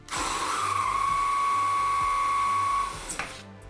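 A core bit drills a hole through a glass bottle, giving a loud, sustained high whine that holds steady for nearly three seconds and then stops abruptly.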